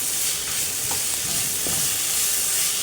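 Crushed onions sautéing in a pan for chicken biryani, a steady close frying hiss with faint stirring scrapes, no voices.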